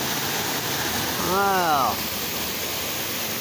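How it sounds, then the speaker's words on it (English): A waterfall pours with a steady, loud broadband rush at a mini golf course, with a person exclaiming briefly over the constant roar. "look at this waterfall coming down out here"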